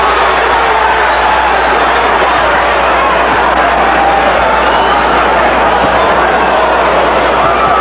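A large boxing arena crowd roars and rises during a heated Holyfield vs. Bowe exchange, a continuous loud wash of cheering under a commentator's voice.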